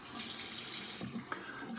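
Tap water runs steadily into a sink to wet shaving soap, a close, continuous hiss-and-splash that briefly shifts as the stream is interrupted near the end.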